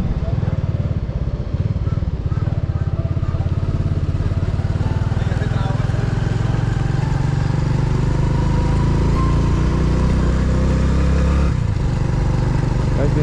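Motorcycle being ridden on a trip around snowy Gulmarg, a loud steady engine drone with continuous road and wind rumble close by throughout, with talk over it.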